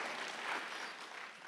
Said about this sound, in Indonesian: Beri tepuk tangan buat Tuhan yang luar biasa.